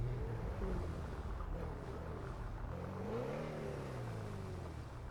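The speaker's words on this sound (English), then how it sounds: "It's a great engine sound in that car too." A car engine in the GTA Online video game revs up and down, its pitch climbing and falling in sweeping rises over a steady low rumble, moderately loud and continuous with no talking.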